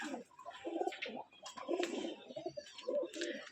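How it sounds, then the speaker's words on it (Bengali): A pair of light green Dobaj pigeons coo close by in short, repeated throaty phrases, with soft murmuring between calls. "এখানে এক জোড়া সবুজ দোবাজ কবুতর মাশাল্লা দেখতে আসছেন দুটাই লাইট সবুজ দোবাজ কবুতর"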